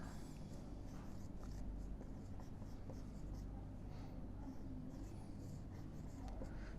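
Pen or pencil writing by hand on paper in a classroom-style lesson, a continuous soft scratching throughout under a steady low background hum.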